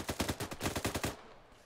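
Rapid automatic gunfire in Arma 3, a rattling burst of about a dozen close, evenly spaced shots that stops abruptly, leaving a faint tail.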